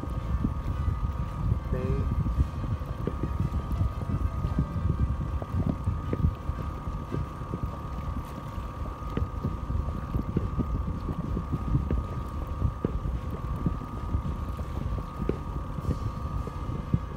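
A boat cruises slowly at about a knot and a half on calm, flat water near Fort De Soto, giving a steady low engine rumble with light wind buffeting, constant and fairly close throughout.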